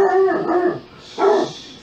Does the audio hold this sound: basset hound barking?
yes